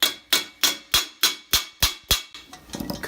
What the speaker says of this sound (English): we're hammering them pretty solid